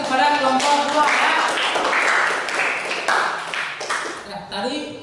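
A classroom audience claps for a student group after its presentation. Dense, fairly loud applause runs throughout, mixed with voices, and thins out near the end.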